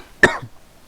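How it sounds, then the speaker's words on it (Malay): A single short, sharp cough from someone in a classroom lesson, close and fairly loud, followed by quiet. "Batuk kau ni."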